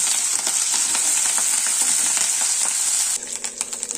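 Green chillies and curry leaves for a tomato pachadi crackle and sizzle in hot oil while a spoon taps and scrapes through them. The sound is steady and close, and the stirring shifts to sharper clinks near the end.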